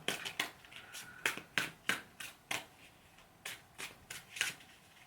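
A deck of reading cards is shuffled by hand, giving a series of crisp, riffling snaps in uneven bursts, close and clear against a quiet room with no talking.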